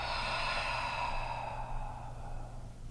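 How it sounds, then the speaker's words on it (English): Slow, deep breath during a stress-release yoga session, heard alone and close: a long, airy inhale-exhale that fades out gradually. "Take another breath."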